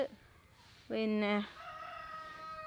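A rooster crows once, loud and close, heard during a stop on a train journey in Kerala, with a drawn-out, strained call that trails off into a fainter tonal tail over quiet background noise.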